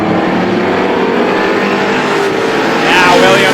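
Stock cars at Star Speedway race around the track in a weekly feature, engines roaring loud and continuous with a slight surge as cars pass near the end.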